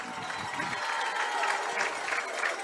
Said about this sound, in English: Philo crowd getting all jubilant here as their team trying to get back in it